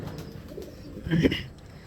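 A fit racing pigeon in a loft gives a short throaty coo, one brief swelling call close by against quiet room noise.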